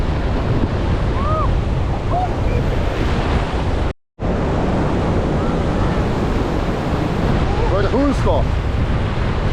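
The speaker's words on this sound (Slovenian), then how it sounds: "danes so pa kar malo večji valovi" Big ocean waves surge and roar continuously around a sailboat at sea, with heavy wind buffeting the microphone, a brief dropout midway, and faint cries in the background.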